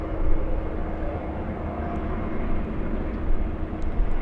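A heavy airliner taking off from runway 24 left at Los Angeles International Airport, heard as a steady, distant jet-engine roar with a broad low rumble throughout, no talk.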